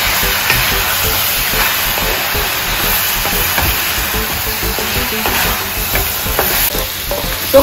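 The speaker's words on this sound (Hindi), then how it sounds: "ये मसाले डालने के बाद आपको कंटिन्यूस 2 से 3 मिनट तक इसको स्टर करना है ताकि जो मसाला है वो चिपके ना" Spices for chicken curry being stirred continuously in a hot pan, a loud, close, steady sizzle and hiss with scraping, no talking.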